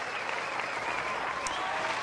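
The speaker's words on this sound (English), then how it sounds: "I'm going to applaud you one more time" Steady audience applause fills the room at a motivational talk, dense and continuous clapping from a crowd with no pause throughout.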